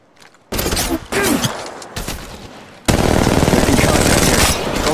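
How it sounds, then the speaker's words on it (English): Loud automatic gunfire in Apex Legends Mobile, with a short burst, a pause, then several longer sustained rapid-fire bursts close to the listener. "Opening fire."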